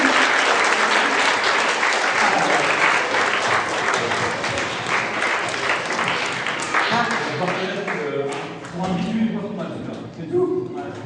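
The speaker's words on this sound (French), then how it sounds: "Merci Olivier, qui regagne sa place sur un applaudissement définitif." Scouts around a 2013 campfire applauding, a dense round of clapping from a group that stays strong for several seconds and then thins into scattered claps with voices mixed in.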